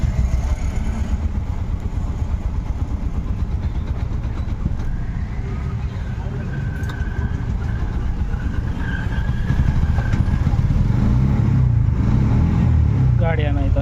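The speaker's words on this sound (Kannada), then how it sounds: "ಇವಾಗ ಗಾಡಿ ಆನ್ ಮಾಡ್ತೀನಿ." A Bajaj motorcycle engine starts up and settles into a steady low idle that runs loud and close throughout, with a louder surge of revving near the end.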